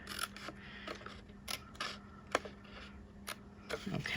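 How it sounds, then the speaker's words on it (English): Scissors snip a miter into a scored paper gift box for beverages, a series of short crisp cuts and paper rustles spaced irregularly, close up and fairly quiet. "I'm just going ahead and cutting that miter right in as I cut up this score line for this piece."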